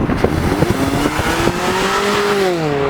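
A 2013 Scion tC accelerates hard, its engine note climbing steadily in pitch, with a few faint clicks and thumps under the rising whine.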